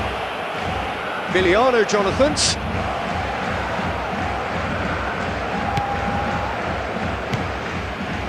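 Football stadium crowd at a World Cup match, a broad steady roar filling the background under a commentator's voice, with a brief swell of cheering early on.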